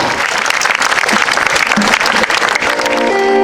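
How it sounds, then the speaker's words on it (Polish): Loud, dense applause from an outdoor crowd at a charity concert in a town market square, sustained throughout, with music beginning to rise underneath near the end. "Gorące brawa!"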